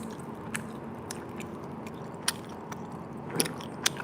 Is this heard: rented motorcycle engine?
no